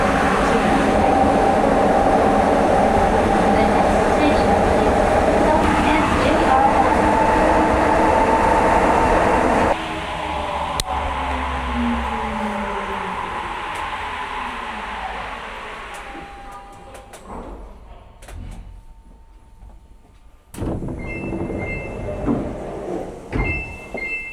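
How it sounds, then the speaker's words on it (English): A Sapporo Municipal Subway train in Japan roars along loudly, then slows with squealing wheels and rattling, and quiets before a brief electronic chime and rising noise. "the metro's quite loud"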